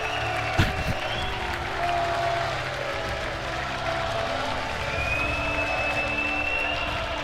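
A crowd cheering and applauding at the Red Bull Wololo Age of Empires finals, a dense continuous wash of clapping and cheers with a sharp bang near the start, while a caster talks over it.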